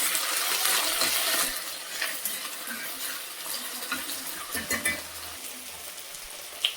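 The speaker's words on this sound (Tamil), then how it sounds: "இந்த பக்கம் வந்து வெங்காயம் வதங்கினதும் இஞ்சி பூண்டு பேஸ்ட்டு அந்த பச்சை வாசனை போகிற வரைக்கும் நல்லா வதக்கிக்கோங்க" Onion with ginger garlic paste sautéing in a pan while okra is cooked for puli kulambu, giving a steady soft sizzle with faint scraping and light clinks from stirring, no one talking.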